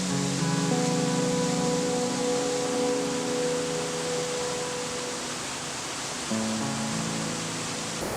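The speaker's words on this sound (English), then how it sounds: "Llanberis waterfalls." Waterfall at Llanberis rushing as a steady broadband roar, close and constant, with a faint low tone drifting underneath.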